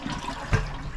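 Toilet flushing in a self-maintaining off-grid home with strong water pressure: a short watery rush with a brief surge of gushing in the middle, heard close by.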